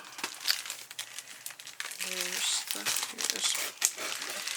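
Plastic packaging on a pack of Power Project folders crinkles and rustles close by in irregular bursts, with a person talking over and between the crackles.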